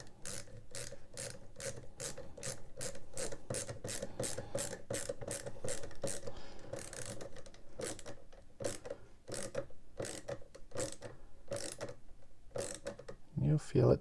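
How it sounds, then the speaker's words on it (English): A ratcheting click train from an AT-ST model's leg joint being screwed back into its socket, rapid evenly spaced clicks running steadily at close range with a brief pause partway through, no voices. "screw it back into place"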